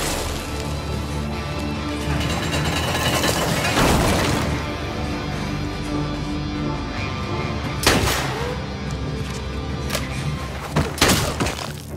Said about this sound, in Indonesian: membuatnya menembak secara membabi buta